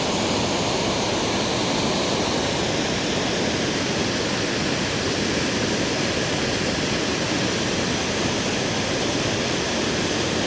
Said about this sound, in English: It's just cascading water as far up this river as you can see.